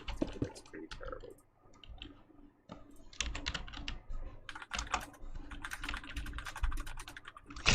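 Rapid, uneven bursts of clicking keystrokes on a computer keyboard, close and fairly crisp, with brief pauses between flurries of typing and no voices.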